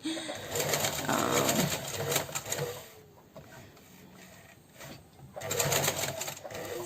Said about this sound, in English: So machine stuck just now because it was passing over quite a lot of elastic